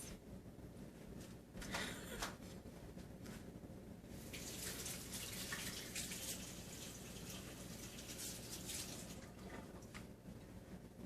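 A tap runs steadily into a sink for handwashing, a continuous broadband rush of water that grows fuller and brighter partway through, with no talk over it.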